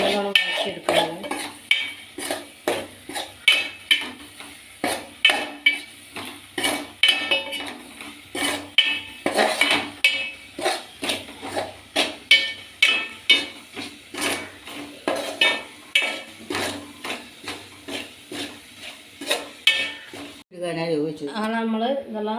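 Ingredients sautéed in oil for a home-style egg curry, a spatula striking and scraping the pan in a steady repeated rhythm close by, with a brief voice at the end.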